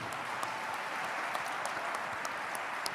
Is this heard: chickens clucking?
no